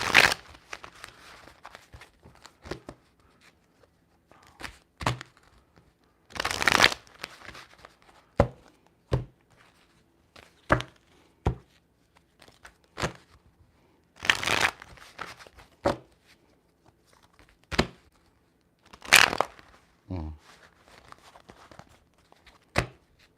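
A deck of tarot cards being shuffled in repeated short riffling bursts with brief pauses between, close up and fairly loud, no talking.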